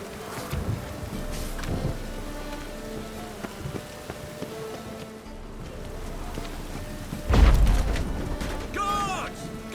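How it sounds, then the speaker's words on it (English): Steady rain falling in The Witcher 3, a continuous patter of drops with a louder splash or gust near the end and faint mechanical clinks mixed in. "It just rains and rains."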